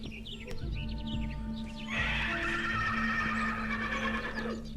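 A horse whinnies loudly, its wavering neigh rising midway and trailing off, over a steady low hum.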